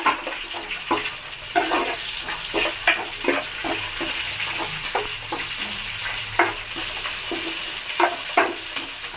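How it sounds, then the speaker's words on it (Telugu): Dried red chillies and curry leaves fry in an oily pan, crackling and sizzling steadily near the mic while a spoon scrapes and stirs in repeated strokes. "ఇప్పుడు దీనిలో నేను ఎండుమిర్చి కరివేపాకు వేసుకుంటున్నాను కూడా వేయించుకుంటున్నానండి"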